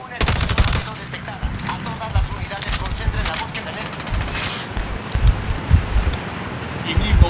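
Gunfire in the video game Ghost Recon Wildlands: a loud rattling burst of automatic fire, then scattered single shots and more bursts over wind noise, with someone talking over it.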